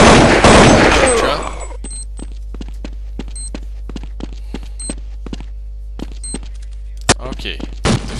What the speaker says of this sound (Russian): Кто-то что-то стреляет, кто-то что-то делает.